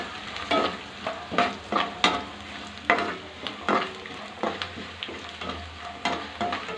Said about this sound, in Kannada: ಇದು ಸ್ವಲ್ಪ ಗೋಲ್ಡನ್ ಬ್ರೌನ್ ಥರ ಬರೋ ತನಕ ಸ್ವಲ್ಪ ಫ್ರೈ ಮಾಡ್ಕೊಳ್ಳೋಣ